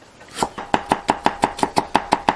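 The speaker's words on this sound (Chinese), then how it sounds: "再切点生姜，" A kitchen knife chops fresh ginger on a cutting board, about a dozen crisp, evenly spaced knocks in a quick steady rhythm, close up and clear with no talking.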